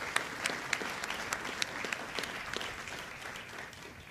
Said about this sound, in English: So please let's give a round of applause for all of our chaplains and what they do for us.